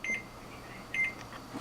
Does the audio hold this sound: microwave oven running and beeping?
yes